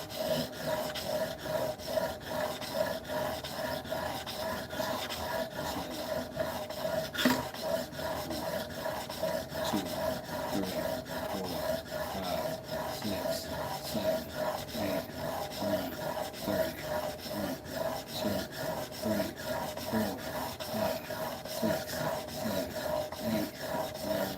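A chisel, reworked from an old masonry chisel, is rubbed back and forth on a 400 grit sharpening stone, giving quiet, continuous, rhythmic rasping strokes up close for the whole stretch, with no voices.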